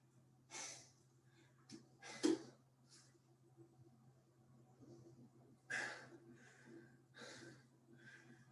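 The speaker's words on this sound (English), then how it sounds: "Hopefully you're huffing and puffing as bad as I am." Heavy, ragged breathing after a bodyweight bootcamp workout, several loud huffing exhales and sharp inhales in bursts with pauses between, close to the microphone over a low steady hum.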